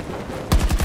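A short, loud burst of rifle fire from a futuristic M4 in a shooter video game, several rapid shots starting abruptly after a quiet half second.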